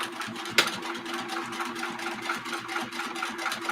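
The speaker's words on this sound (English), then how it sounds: "So I'm going to stitch on the other side as well." Close up, a sewing machine stitches a small mini messenger bag, its needle hammering in a fast, even rhythm after a sharp click near the start.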